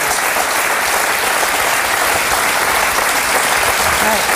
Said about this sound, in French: On peut l'applaudir, il est bien.